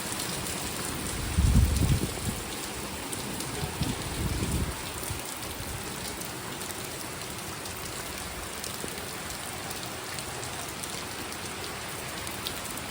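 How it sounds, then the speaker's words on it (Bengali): Rain falls steadily outdoors in Bangladesh, a soft continuous hiss of drops on surfaces, with a couple of low thumps in the first few seconds before settling into an even patter. "চলো এবার দেখায় কেমন বৃষ্টি শুরু হলো"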